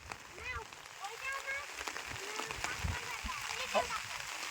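Steady rain patters and hisses across the whole stretch, with voices talking faintly over the wet downpour.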